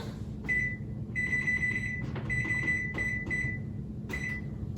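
An oven's control panel being set to preheat gives a series of short, bright electronic beeps in irregular bursts, some held longer, close by over a low steady kitchen hum, with no talking.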